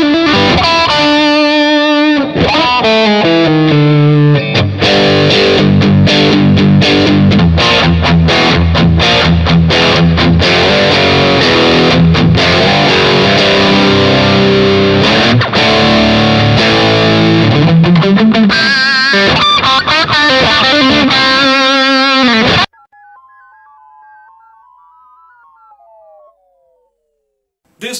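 A Stratocaster in the second pickup position runs through a Tone City Golden Plexi distortion pedal, giving loud, dense overdriven chords and riffs that ring for over twenty seconds before cutting off, followed by a faint trailing tone.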